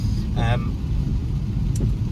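Inside a 2014 BMW 435d xDrive M Sport automatic cruising in Eco Pro mode, a steady low diesel cabin drone and road rumble fill the background while a person talks over it.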